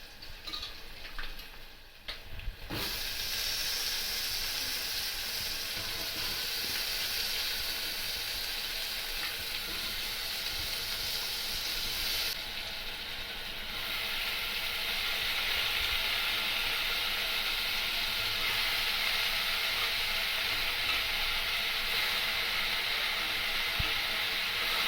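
Potato and broad bean pieces sizzle steadily in a pan for a Telugu-style curry, a close, continuous hiss that barely changes, with a short dip near the start and again around the midpoint.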